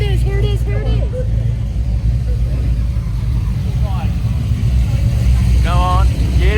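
An orange car rolls into a car meet on the Sunny Coast, its engine rumbling low and steady in the foreground while onlookers chatter excitedly over the noise.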